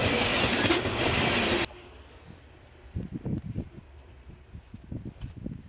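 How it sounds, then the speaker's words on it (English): A train passes near a lakeshore while someone fishes for walleye, heard as a dense roar that cuts off abruptly, followed by quiet ambience with irregular low thumps and rustling. "And the train's coming, so you'll have a brief little no audio break."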